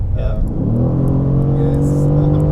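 Mercedes-AMG GT C engine accelerating on the road, a loud close rumble with rising tones as revs climb steadily, and a voice briefly heard over it.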